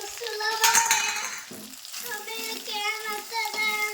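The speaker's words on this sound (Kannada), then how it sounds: "ಪಾಲಕ ಕೊತ್ತಂಬರಿ ಎಲ್ಲ ಹಾಕಿದ್ಮೇಲೆ ತಿರುವೇನು ರೀ ನೋಡ್ರಿ ಪಾಲಕ್ ಎಲ್ಲ ಈ ರೀತಿ ಫ್ರೈ ಅದ" Spinach and coriander leaves being stirred as they fry in a pan, a steady close sizzle with scraping strokes, partly under a voice talking over the cooking.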